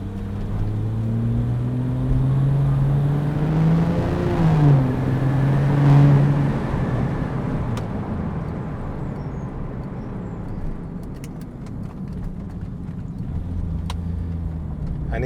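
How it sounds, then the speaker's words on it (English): A Porsche 911 Turbo 997.1 with a Klein Innovation aftermarket exhaust revs up through the gears, a loud, close engine note rising and falling in pitch during the first half before settling into a lower, steadier drone. "letting it go through the rev range and the gears, and it was only really going up to second gear, I think it sounds absolutely incredible"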